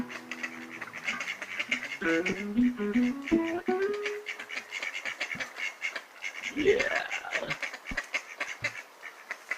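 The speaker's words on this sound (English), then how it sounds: "babbling brook with the ducks who don't give up" Ducks quack repeatedly by a babbling brook in short, honking bursts, with a brief spoken word and faint background chatter.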